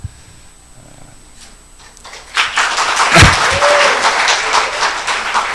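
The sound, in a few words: audience clapping at lecture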